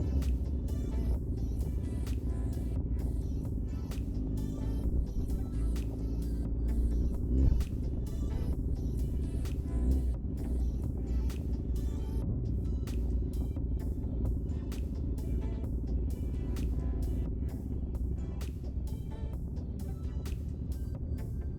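Motorbikes and quad bikes ride past at a motorcycle event in Brighton, a continuous low engine rumble and throbbing with rapid regular wind buffeting, heard from a rider's own motorbike.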